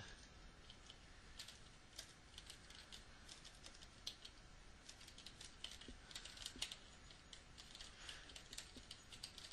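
Typing on a computer keyboard for a Microsoft Word tutorial, a faint, rapid run of light key clicks in uneven bursts, close and alone without talk.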